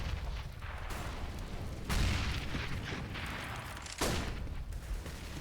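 Grenade blasts on the Cache map of Counter-Strike during a professional match: two sharp, loud booms about two seconds apart over continuous rumbling gunfire and game noise.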